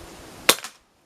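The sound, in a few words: Daystate Delta Wolf air rifle shot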